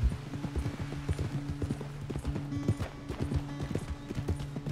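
Horse hooves clip-clopping in a steady galloping rhythm while riding in Red Dead Redemption 2, loud and close throughout, with no talk over them.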